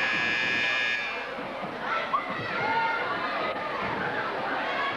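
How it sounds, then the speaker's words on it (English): A long, steady buzzer blares at a 1983 high school basketball game between Beechwood Academy and Flint River Academy, cutting off after about a second into loud gym crowd noise and chatter. "The buzzer has sounded"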